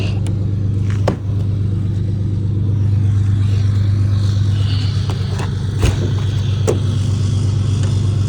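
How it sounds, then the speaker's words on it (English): A pickup truck engine idles steadily with a low, constant rumble, close by, with a couple of faint knocks over the hum and no talk. "Pickup truck running."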